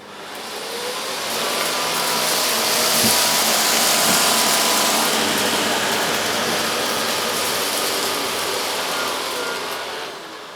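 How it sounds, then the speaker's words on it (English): A Miele S4780 cylinder vacuum with an Accu Nova power head runs over carpet, a loud steady whooshing roar with a rattling brush whir that swells up and eases off near the end. "if I go over the straight suction path again, but this time using the Accu Nova head"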